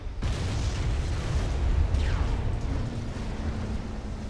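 Explosions boom continuously as a battleship attacks destroyers in the real-time strategy game Supreme Commander, a dense, rumbling barrage with a whistling projectile sweep midway, steady and fairly loud throughout.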